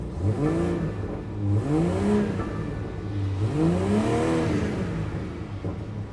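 A Portimao Blue BMW M340i sits idling close by, its engine blipped in several quick revs that rise and fall in pitch, with a steady mechanical hum between the bursts.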